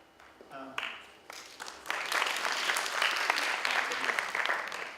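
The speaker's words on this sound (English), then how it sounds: "I'm not used to getting applause after every question." An audience at a meeting with the U.S. ambassador in Armenia breaks into applause after a question. A voice is heard first, then clapping swells into a full, sustained round that continues to the end.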